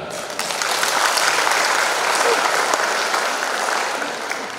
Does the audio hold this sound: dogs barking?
no